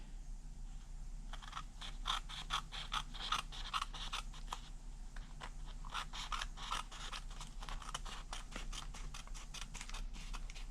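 Scissors trimming a small overhanging scrap off the edge of a Priority Mail envelope, a run of quick, close crisp snips and clicks that speeds up toward the end, with no talking.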